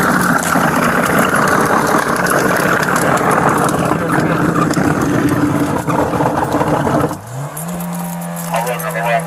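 A police vehicle engine idling with a loud steady rumble and jangling keys. Near the end it drops to a lower, quieter tone with a sustained hum, and urgent voices talk over it.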